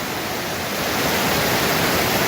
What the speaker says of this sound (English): Didn't even know there was a waterfall on this trail, but this is actually a pretty nice one